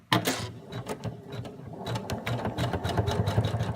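A sewing machine stitches a placement line in light brown thread on fabric, a rapid steady mechanical whir with rhythmic needle clatter running continuously and close.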